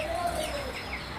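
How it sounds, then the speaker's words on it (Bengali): Tiger breed chicken chicks cheep at a village market, thin high peeps and chirps rising over a busy background murmur, close and fairly steady. "অরিজিনাল টাইগার মুরগির বাচ্চা এগুলো"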